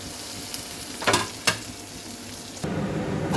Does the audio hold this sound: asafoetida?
yes